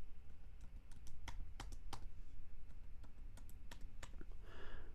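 Someone types a simple password one-handed on a computer keyboard, giving scattered, irregular clicks with short pauses between bursts of keystrokes, close up over a steady background hiss.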